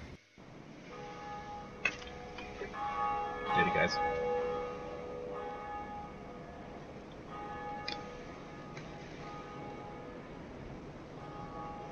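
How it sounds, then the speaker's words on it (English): In the Dark Souls video game, the church bell at the Undead Church rings with faint, sustained tones over quiet game ambience, and someone briefly speaks. "And we ring the bell."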